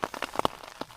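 Rain patters on a ground sheet shelter at a campsite, irregular close drops tapping the sheet with a few louder hits.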